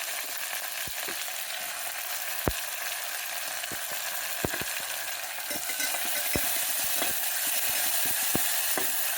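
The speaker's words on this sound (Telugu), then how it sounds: "ఉల్లిపాయలండి, ఒక టమాటా, ఉల్లిపాయ, పచ్చిమిరపకాయలు అన్నీ వేసి వేగనివ్వండి" Onions, a tomato and green chillies fry with cloves, cinnamon and cardamom for a vegetable pulao, producing a constant close hissing sizzle broken by sharp spoon clicks against the pan.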